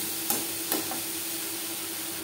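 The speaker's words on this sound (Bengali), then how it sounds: "নারকেল ও বরবটির সাথে হলুদের গুঁড়ো বেশ ভালো করে মিক্স করে দেবো। 2-3 মিনিট নাড়াচাড়া করে নেব।" Grated coconut and yardlong beans with turmeric powder are stirred in a pan over a gas flame. A steady frying hiss carries two faint spatula scrapes near the start.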